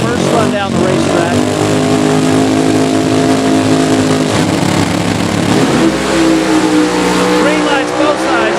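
A funny car, a big block Chevy among them, launches on green down a drag strip, its engine roaring loud and sustained with a rising pitch as it accelerates, while an announcer talks over it.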